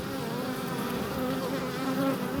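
Dense, continuous buzzing of a crowd of honeybees being removed from a farm building ceiling, close and fairly loud, holding an even drone throughout.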